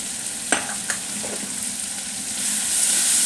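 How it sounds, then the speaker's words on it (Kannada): Onion, tomato and curry leaves frying as a tempering in a pan, giving a steady close sizzle with a few sharp crackles and pops early on, rising slightly in the last second, with no talk. "ಈಗ ಒಗ್ಗರಣೆ ಈರುಳ್ಳಿ ಟೊಮೊಟೊ ಹಾಕಿ ಅದಕ್ಕೆ ಒಗ್ಗರಣೆ ಮಾಡ್ತಾ ಇದ್ದೀನಿ ಅದಕ್ಕೆ ಸ್ವಲ್ಪ ಕರ್ಬೇವಿನ ಸೊಪ್ಪು ಹಾಕಿದ್ದೀನಿ"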